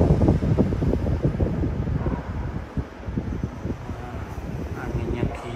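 A Gree 2 PK air conditioner at fan speed level 2 blows a strong, steady rushing hiss of air close by, with a rumbling, buffeting low end throughout.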